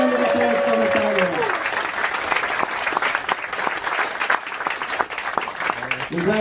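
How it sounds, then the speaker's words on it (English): Guests on a Viking river cruise ship give a big round of applause for the bar chef, sustained crowd clapping with cheering voices, and someone talking over the start and end. "Big round of applause for Natalia."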